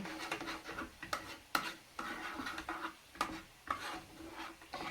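Lemon and poppy seed soap being stirred as ingredients from a sachet are mixed in, giving a close, irregular scraping and rubbing with sharp clicks and knocks against the container, alone without talk.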